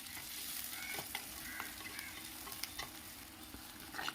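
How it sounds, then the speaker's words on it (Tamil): Onions sizzle and fry with curry leaves in a pan for a village-style fish curry, a steady crackling hiss with occasional soft stirring scrapes, fairly quiet and with no talking. "மீடியம் ப்ரௌன் கலர் வர வரைக்கும் நான் ஃப்ரை பண்ணுறேன்"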